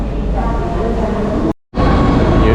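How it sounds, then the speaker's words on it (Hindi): Steady loud rumble of a metro train arriving in a station in Rome, with a brief silent gap midway, then the rumble continues; faint voices blend into the noise. "ये ट्रेन आ चुकी है"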